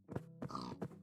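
Pigs in Minecraft grunting and oinking in three or four quick, close, nasal snorts, heard alone with no speech.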